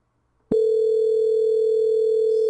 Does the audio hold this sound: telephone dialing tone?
yes